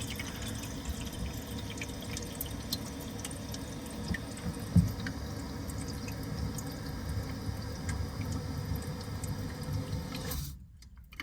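Water runs steadily into a Roca toilet cistern on a Grohe frame as it refills, a continuous trickling hiss with faint drips that holds for about ten seconds, then cuts off abruptly when the fill valve shuts.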